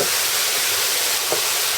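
Beef goulash stroganoff with mushrooms frying in a pan, a steady broadband hiss and sizzle running without a break, with one brief soft knock near the end.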